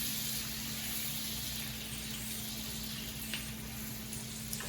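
Salted butter, about half a stick, sizzles steadily in a pan as the base for a lemon butter sauce, a continuous close hiss with faint clicks and no talking.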